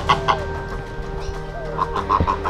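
Chickens clucking and cackling near a farmyard pen where geese gather around newly hatched emu chicks, scattered clucks rising over a steady background hum with some quiet rustling.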